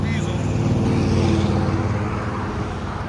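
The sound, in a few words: BMW X5 3.5L diesel engine with straight pipes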